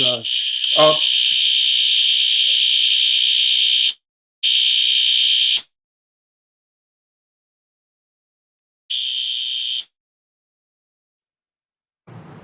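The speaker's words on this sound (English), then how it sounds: "while the fire alarm goes off" A loud, shrill electronic alarm rings continuously for several seconds, then sounds in shorter bursts separated by silence.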